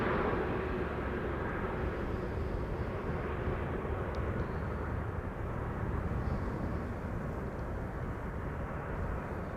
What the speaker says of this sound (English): This is Eastern Airways, Britty Hopper. Embraer 170 flying on behalf of KLM,